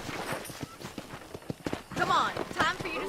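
Horse hooves clip-clop in Red Dead Redemption, a brisk, regular series of close hoofbeats running throughout, with a voice talking over the second half.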